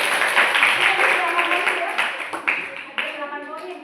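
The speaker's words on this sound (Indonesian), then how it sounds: "Beri tepuk tangan." An audience claps together at a school counselling presentation, a dense burst of applause that thins into a few scattered claps as it fades.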